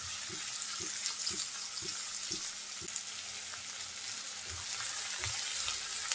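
Chopped onions, about one and a half cups, frying lightly in a pan for a fish tail bhuna bharta, giving a steady soft sizzle with faint regular taps of stirring throughout.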